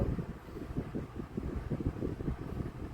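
A Ku Hsing table fan whose overpowered motor was designed for a 16-inch Cool Breeze blade runs steadily, giving a close, rough, buffeting whoosh of moving air with an uneven, gusty low rumble.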